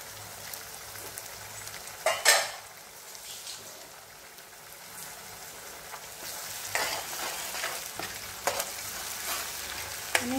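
Masala paste fries in oil in a pan for a Kolhapuri paneer gravy, making a continuous soft sizzle. A few louder stirring scrapes come in, two close together early and more later.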